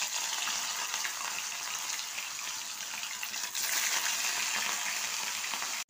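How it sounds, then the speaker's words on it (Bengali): Two pieces of katla fish fry in hot white oil with a spoonful of ghee in a kadai, giving a loud, steady, close sizzle that runs throughout, dips briefly midway and cuts off abruptly at the end. "তেলটা গরম হয়ে গেছে, আমি 2টো কাতলা মাছের পিস তুলে দিলাম"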